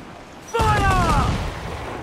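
A ship's broadside cannon volley in Assassin's Creed 4 Black Flag, a sudden deep rumbling boom that rolls on and fades, with a voice and tonal sounds over it.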